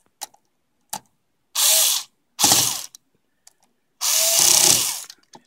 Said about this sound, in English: This screwdriver has an automatic torsion adjustment on it, but you can just do it snug.